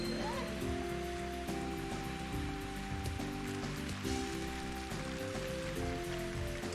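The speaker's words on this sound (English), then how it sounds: "With the rain sounds, like you could fall asleep to this." Steady rain patters continuously over a soft, layered background in the Nintendo 64 game Mario Golf, with a gentle pan flute melody drifting underneath.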